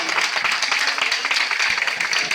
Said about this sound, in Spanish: Por favor, un gran aplaudimiento para ti.